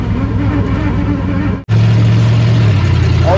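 A 1960 Chevrolet Impala, revived after sitting 32 years, pulls hard under throttle, cuts out for an instant as it shifts, then drones steadily in second gear; the engine is loud and close, with no talking.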